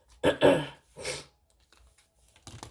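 A close, fairly loud throat clearing followed by a short sniff, then near silence with a few small rustles.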